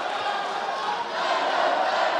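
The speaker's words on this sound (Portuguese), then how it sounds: "A galera faz muito barulho, tanto a torcida do Kainan quanto a torcida do John Snake." Arena crowd at the Jungle Fight 113 MMA title fight in São Paulo, a steady, loud wash of cheering and shouting from fans of both fighters that swells slightly halfway through.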